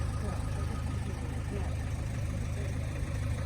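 A 2010 Opel Vivaro long-wheelbase 9-seat van engine idles steadily with a low, continuous rumble, close by and unchanging, with faint talk mixed in.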